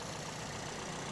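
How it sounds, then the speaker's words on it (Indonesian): A 2010 Toyota Vios TRD Sportivo with a 1500cc four-cylinder VVTi engine idles in a steady, smooth, even drone with no talking. "Dan ini suara mesinnya."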